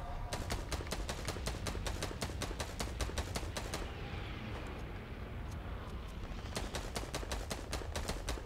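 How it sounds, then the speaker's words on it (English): Rapid gunfire from many players in a Fortnite-style live Ice King event rattles in quick, evenly spaced shots, breaks off briefly in the middle under a rumbling wash, then comes back just as fast. "People are just shooting at him."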